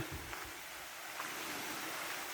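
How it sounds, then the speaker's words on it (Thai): Small stream flowing out below a waterfall at Krok Ma Tai falls, Khao Phai, Pattaya, a steady broadband rush of water with a faint low rumble, continuous and fairly quiet with no talk. "ตรงนี้จะเป็น ลำธารน้ำครับ จะไหลออกไปข้างนอก"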